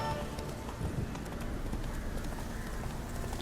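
Roach, the horse in the video game The Witcher 3, gallops with a steady, fast clip-clop of hooves, quiet and even throughout against a soft background wash.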